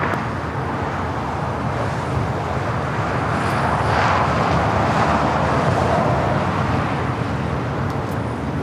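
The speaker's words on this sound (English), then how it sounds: "Avianca, A320 touching down here on the south side" An Avianca Airbus A320 touches down on the south side of LAX, giving a steady, broad jet rumble that swells slightly toward the middle, heard alone at moderate distance.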